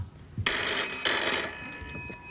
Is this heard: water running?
no